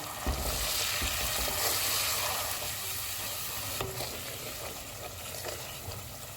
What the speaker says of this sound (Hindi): टमाटर का पेस्ट डालेंगे। जो मसाले बचा के रखे हुए थे वो डालेंगे। इनको 4 से 5 मिनट तक भूनेंगे।